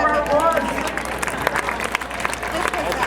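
Audience clapping after a drug-detection dog finds its target during a police canine demonstration, a scattered round of applause mixed with crowd murmur and nearby voices.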